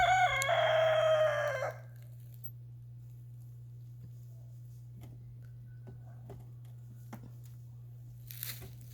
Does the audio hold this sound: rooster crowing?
yes